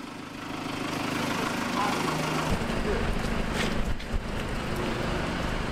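A tractor idles on a street in Colonial Williamsburg, a steady low engine drone that holds loud and close for several seconds amid outdoor traffic noise.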